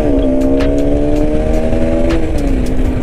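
Bajaj Pulsar RS 200 motorcycle running with a newly fitted fuel pump, a loud, close, steady engine drone with a slight pitch dip toward the end.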